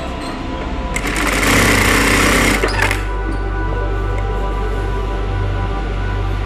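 A Jack A2 industrial sewing machine runs with a loud, close mechanical whir and rapid needle clatter for about two seconds over a constant low motor hum that continues after the stitching stops.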